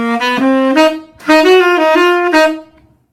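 A tenor sax phrase from an Alabama All-State middle school jazz etude, played alone and close: a few swung notes with short breaks, one rising line held, then a final note that fades out.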